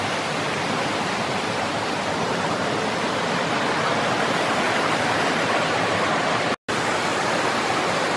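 Steady, full-bodied rush of a waterfall in a mountain nature preserve, loud and continuous close by, broken only by a split-second gap near the end.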